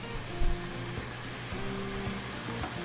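Tamari and sesame oil hitting a hot pan of vegetables with carrot, giving a steady broadband sizzle with a brief louder burst near the start, close and continuous, with no talking.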